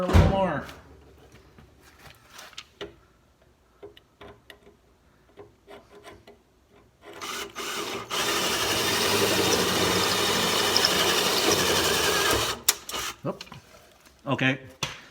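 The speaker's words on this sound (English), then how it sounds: "let's drill her a little more" A spot weld cutter drilling through a car body panel to separate the outer skin from the inner: a steady grinding, rasping drill run of several seconds in the middle, framed by short bursts and people talking.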